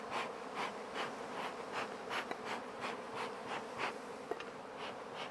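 Honey bees swarm at an opened production hive during a split, a steady close droning buzz with pulsing wingbeat swells and occasional brief clicks, no voices.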